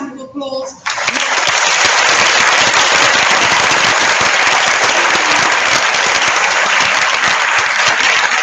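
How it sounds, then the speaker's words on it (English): A brief spoken voice gives way to a sudden burst of loud, sustained applause from the audience at an IB graduation ceremony in 2015, with crisp hand claps filling the hall evenly. "give everybody who's involved a huge round of applause"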